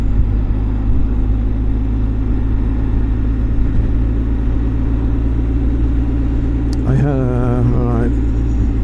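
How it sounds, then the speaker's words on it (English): A BMW R1300GS Adventure motorcycle on its break-in ride, slowing under engine braking: a steady, loud low engine rumble with a constant drone, and a brief wavering higher tone near the end. "I think it's just an engine brake."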